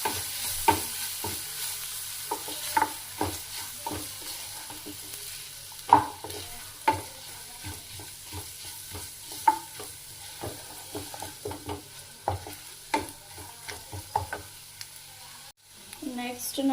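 Ginger garlic paste roasts in a pan for paneer butter masala, sizzling steadily while a spoon scrapes and stirs in irregular clinks and scrapes.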